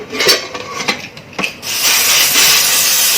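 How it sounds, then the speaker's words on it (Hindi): A few clattering knocks, then a loud, steady rush of hissing steam as a pressure cooker cooking masoor dal khichdi vents its whistle. "कुकर में दूसरी सीटी भी आ चुकी है।"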